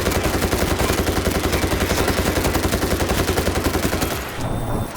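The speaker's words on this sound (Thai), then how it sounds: "จะเปิดป้อมปืน" A gun turret in World War Z Aftermath fires a rapid, continuous stream of loud, evenly spaced shots up close, dropping off abruptly near the end.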